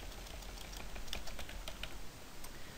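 Light, scattered keystrokes of answers being typed on a computer keyboard, soft clicks sitting under a steady, loud hiss of background noise, with no voices.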